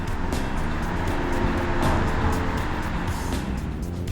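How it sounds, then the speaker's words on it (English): Cars pass on a street in Stratford-upon-Avon with a continuous, fairly loud tyre-and-engine rush from close by, rising briefly around midway, with no voices. "The only thing that spoils it, cars."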